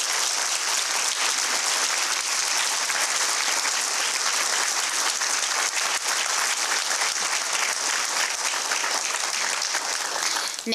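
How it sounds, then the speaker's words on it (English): A school board meeting audience applauds teachers being recognized for National Board Certification renewals, a steady, dense wash of clapping from many hands that holds evenly for about ten seconds before cutting off. "If we could give them a round of applause."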